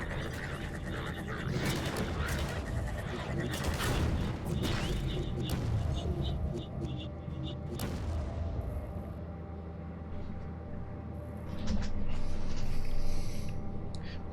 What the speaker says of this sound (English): The sound of your citadel crumbling beneath you?